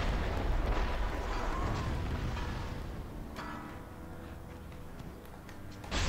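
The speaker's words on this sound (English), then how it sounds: "there's a motherfucker with a cannon" Enemy cannon fire in the video game Sekiro: Shadows Die Twice: heavy, rumbling booms and a low, roaring blast that fades into a quieter rumble, with a sharper thud at the very end; no talking.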